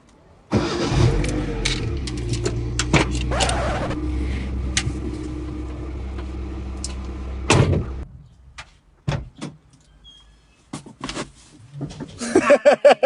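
A car door thuds and the engine starts and idles loudly, then a couple of revs come as the car reverses during a driving test, followed by clunks and another door sound.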